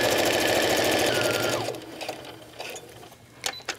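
A sewing machine runs loudly at steady speed, stitching a zipper into a vinyl pouch, then stops partway through and leaves softer handling clicks and rustles.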